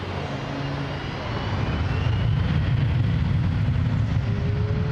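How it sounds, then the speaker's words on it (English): A Cargojet Boeing 727-200F cargo jet roars on its takeoff run at Toronto Pearson, a loud, broad, steady engine rush that grows slightly in strength, heard from a distance without talk. "It's gonna be a loud takeoff."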